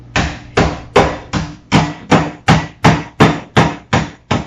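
A hammer pounds graham crackers inside a plastic baggie, striking about a dozen sharp, evenly spaced blows close up, each followed by a short crunch.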